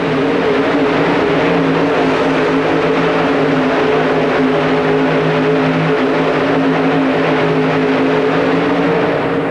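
A 4WD truck pull indoors at the Pontiac Silverdome in 1991, a Chevrolet truck's engine roaring loud and steady at high revs throughout, a continuous strained drone with no voices heard.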